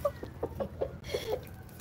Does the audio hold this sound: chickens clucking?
yes